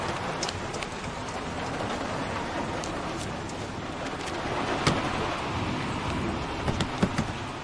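Heavy rain pours down steadily in a film scene around a stalled car, a dense even hiss with scattered close drips and taps rising briefly toward the end.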